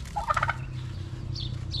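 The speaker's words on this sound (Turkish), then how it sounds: "Şimdi tavukları da koyup." Chickens in a village garden give a short burst of clucking calls close by, followed by fainter calls over a low background hum.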